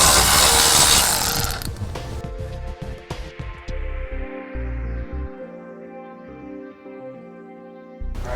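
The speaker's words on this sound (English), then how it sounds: "you can also remove the 2 spring bolts that hold the muffler in place" A ratchet works on the muffler spring bolts under a 2012 Honda CR-V, giving a burst of rapid clicking followed by several slower, separate clicks and metallic turns, close and alone.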